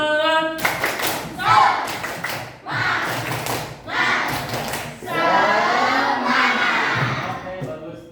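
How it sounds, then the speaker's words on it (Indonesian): Classroom of Indonesian students performs a rhythmic spirit clap, bursts of group clapping in a patterned beat with thumps and children's shouts in between, loud and close, with voices calling out over the claps. "Tepuk semangat."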